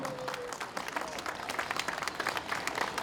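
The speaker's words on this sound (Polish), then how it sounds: "I myślę, że należą im się wszystkim wielkie brawa." Fairly faint, sustained audience applause at a Polish community event marking a record human chain of people holding hands, a broad steady roar of many clapping hands heard from a distance, with a little crowd murmur.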